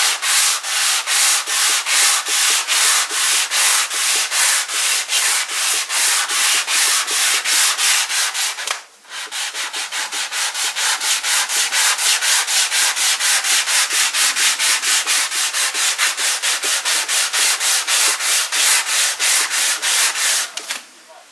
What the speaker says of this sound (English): I'm just going to do a bit of light sanding.